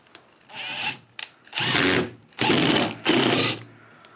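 Power drill driving a series of screws through a plate into plywood, four separate loud whirring bursts of rising and falling motor pitch, close by with short pauses between them.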